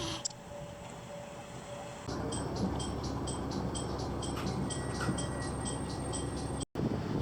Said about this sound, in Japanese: ホットユダからは再び北上線で横手へ。